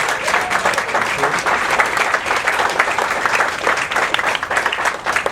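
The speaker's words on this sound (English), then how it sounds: "Everybody give them a big round of applause." Steady, dense applause from a crowd at a weight loss workshop, many hands clapping continuously at a loud, even level without pause.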